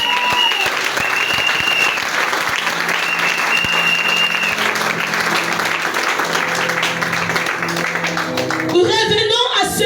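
A church congregation at a Sunday service applauds loudly and steadily for the Lord. The dense clapping fills the hall without a break, with cheering voices and music mixed in. Near the end it gives way to a louder burst of singing or shouting.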